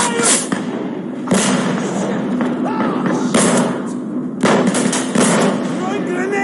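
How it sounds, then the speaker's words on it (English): Grenade blasts in the Black Hawk Down video game land as several heavy thumps spread across the span, sharp and loud with crackling tails, mixed with gunfire and shouted voices. "Throwing grenades! Stay back!"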